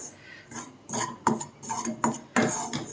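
A utensil scrapes and clinks in a pan as wheat flour is dry-roasted and stirred, with irregular metallic taps and scraping strokes at close range.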